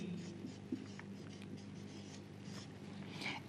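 A pen scratches across paper as an exam answer is written out, a soft, close, continuous scribble with small strokes and no talking.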